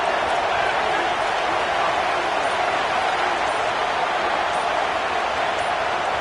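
A packed stadium at an Alabama vs Indiana college football game produces a loud, steady, unbroken roar of crowd noise, a dense wall of sound that holds constant throughout.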